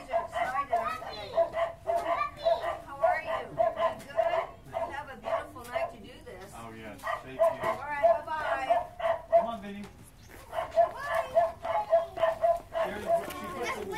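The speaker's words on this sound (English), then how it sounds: "puppies are excited." Several puppies bark and yip excitedly in short repeated bursts, mixed with people talking nearby.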